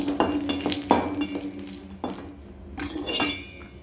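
Raisins and cashews drop into a hot pan for Maggi payasam, giving a brief sizzle with metal spoon scrapes and clinks against the pan in several quick bursts, close and fairly loud.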